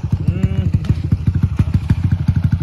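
A motorcycle engine idles up close with a loud, rapid, lumpy pulsing beat throughout, and a brief voice is heard over it near the start.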